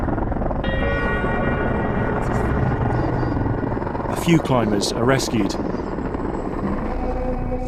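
A rescue helicopter flies over Mount Everest after an earthquake, its steady rotor drone loud and continuous beneath a narrator's voice.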